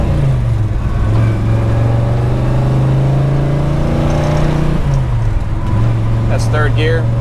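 A 1961 Pontiac Catalina with a 421ci V8 and four-speed revs hard in third gear, a loud sustained engine roar that dips briefly at a shift point and climbs again, close and continuous.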